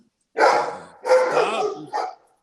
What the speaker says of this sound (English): Stop barking, you bad dogs.